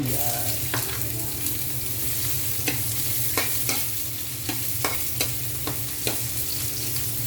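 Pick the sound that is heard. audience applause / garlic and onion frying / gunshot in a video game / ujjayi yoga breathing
garlic and onion frying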